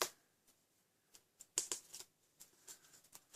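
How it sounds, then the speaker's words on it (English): Backing paper is peeled off small die-cut card-making pieces for a split gate-fold card, heard as sharp crackling rips and quick papery snaps in irregular bursts, close and alone against near silence. "We're just going to peel these off now."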